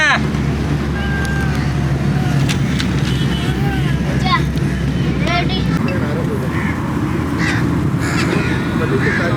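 Crows caw repeatedly over the steady bustle of an outdoor food market in Pakistan, with people talking and vehicle traffic rumbling throughout.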